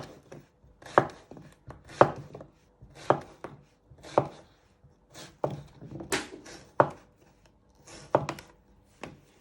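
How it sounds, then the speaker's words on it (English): Knife slicing food into medium pieces on a cutting board while preparing roasted vegetables for teriyaki chicken, a steady series of about a dozen crisp, close chops at a relaxed, uneven pace, with no voices over them. "you just want to slice it into medium pieces"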